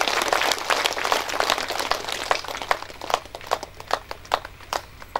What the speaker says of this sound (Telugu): ఒకసారి వారికి కూడా గట్టిగా క్లాప్స్ చేయండి.